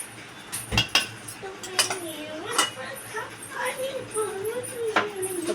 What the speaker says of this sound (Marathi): परत एकदा छान अशी व्यवस्थित आपण परतून घ्यायची आहे